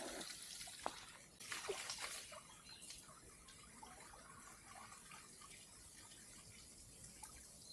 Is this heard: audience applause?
no